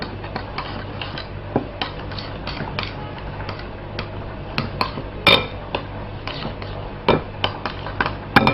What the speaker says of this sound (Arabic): وهبدأ اقلب الخليط ده في بعضه كده